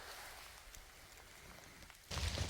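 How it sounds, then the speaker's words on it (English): Steady rain falls outdoors at a field radio operating site, a soft continuous hiss throughout that swells louder and closer near the end. "This rain is nice, though."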